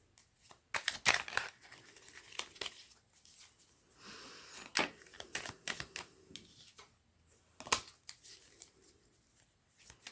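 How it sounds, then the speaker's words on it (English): Tarot cards are laid down one after another on a table, giving soft, scattered slaps and papery shuffling sounds with brief pauses between, close and fairly quiet with no talking. "I'm just going to pop 12 cards on the table."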